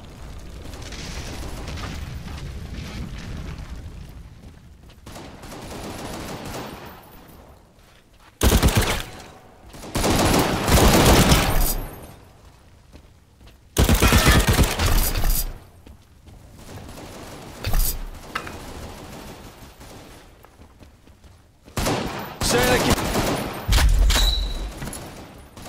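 Bursts of war video game gunfire erupt in loud, dense volleys, rapid automatic fire and booming blasts separated by quieter stretches, with sharp peaks cutting in and out.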